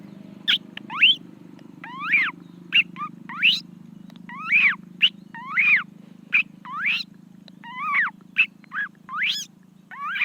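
A man vocally imitates a parrot, producing a long series of rising, squawky whistles and chirps in irregular bursts over a steady low hum.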